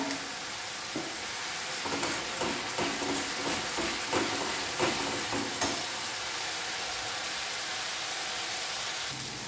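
Chili frying in a pan while being stirred during cooking, a steady bright sizzle with soft scraping strokes from the stirring throughout.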